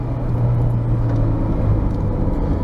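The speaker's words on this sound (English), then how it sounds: "I'm just driving at a spirited pace." A fifth-generation Honda Civic EG6 on Tein H-Tech springs and OEM bushings driven at a spirited pace, heard from inside the car as a loud, steady low engine drone and road rumble without talking.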